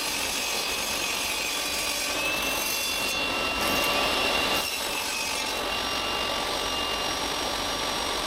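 A saw cuts through a plywood sheet held on a sled, giving a continuous, loud, even rushing whine that stays steady throughout with only slight changes in strain.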